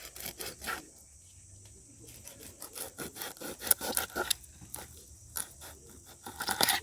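A knife cutting the bottom fin off a fish, tilapia or similar, in quick close rasping, scraping strokes in irregular bursts, quiet overall with louder cuts toward the middle and end.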